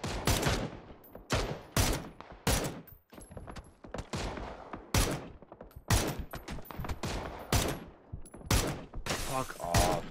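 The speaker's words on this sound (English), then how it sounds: "He's shooting me instead of you." Rapid bursts of video game gunfire, dense volleys and rattling automatic fire in quick succession, loud and close, with players talking over the shooting.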